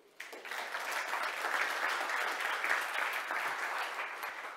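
An audience at a tech awards event applauds its partners, starting with a sudden burst of clapping that holds as a dense, even ovation from a crowd.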